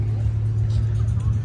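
Cars driving past at a rainy cars-and-coffee meet: a loud, steady engine drone with tyre hiss on wet road, heard close over a brief moment, with crowd chatter faintly underneath.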